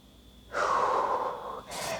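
A Pilates student takes a long, audible breath during a workout: one loud, breathy exhale-like rush lasting about a second, a brief pause, then another breath starting, close to the microphone with no talking.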